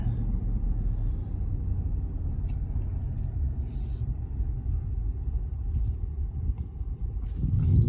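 A Ford Super Duty Tremor pickup with the 7.3-liter Godzilla V8 tows a trailer, its steady low engine and road rumble holding close throughout, with a faint hiss of braking and a swell near the end.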